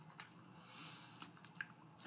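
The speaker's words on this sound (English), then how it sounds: "usually I masticate with more of a frenzied approach" Gushers fruit snack candy chewed close up, a few wet squishy bites and mouth sounds in a quiet room with no talk.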